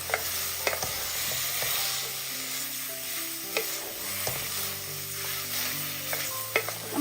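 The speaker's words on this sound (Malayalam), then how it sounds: "എല്ലാം കൂടിയിട്ട് ഒന്ന് ഇളക്കി കൊടുക്കാം" Crushed shallots, ginger and garlic being stirred in a hot pan, a soft continuous sizzle broken by occasional light scrapes and taps of a spoon, no voices.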